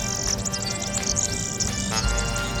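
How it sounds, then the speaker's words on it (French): Birds in Rome chirp and tweet in quick, bright bursts over a dense, steady background of city ambience and other calls. "partout dans Rome, les oiseaux sont très présents."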